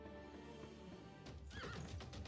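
A horse unit in Civilization VI lets out a neigh amid clattering hooves and a crashing impact, heard over a bed of game music at low volume.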